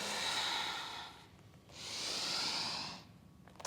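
A long, breathy exhale during a yoga flow, followed by a brief pause and a second sustained exhale, each steady and close, with a soft sniff at the end.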